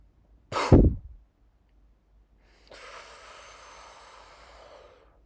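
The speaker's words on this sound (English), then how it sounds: "then forcefully expel the air like a cannon breath." A yoga breathing exercise: one forceful cannon-breath exhale pushed through pursed lips, loud and close, followed by a softer, longer breath hiss.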